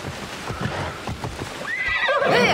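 Horse in the video game Assassin's Creed Odyssey gives a loud, close whinny over a soft clip-clop of hooves, heard alone.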